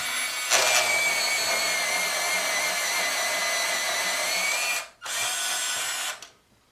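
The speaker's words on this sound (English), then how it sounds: "It's a pretty cool sharpener." Electric pencil sharpener grinding a pencil, a loud steady close-up whirring drone that pauses briefly, resumes, then cuts off.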